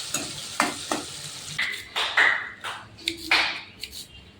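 Onions frying in a pan are stirred with a utensil, giving a soft sizzle beneath repeated scraping strokes and light taps against the pan in an irregular rhythm, heard close up.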